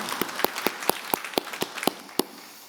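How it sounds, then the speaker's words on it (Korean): A church congregation claps in welcome for newcomers during a Sunday service. About ten sharp, evenly spaced claps sound in unison, fairly faint and distant. "우리 다시 한번 환영의 박수 하도록 하겠습니다"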